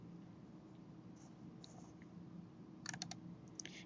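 Soft computer clicks tap out in a quick cluster near the end, a couple of faint, sharp ticks over a low hum of quiet room noise.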